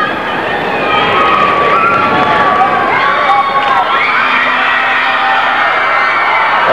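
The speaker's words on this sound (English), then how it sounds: "the Oberlin crowd is on their feet" A loud crowd at a 1989 Kansas high school state championship wrestling match roars and cheers as the bout ends, a dense sustained wall of shouting and whooping.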